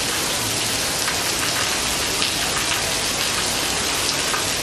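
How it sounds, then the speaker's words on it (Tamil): Heavy rain pours steadily in Tamil Nadu's Ranipet district, a dense, continuous hiss of drops beating on surfaces with no pauses and no voices. "அரக்கோணம் உள்ளிட்ட பகுதிகளில் கனமழை பெய்தது"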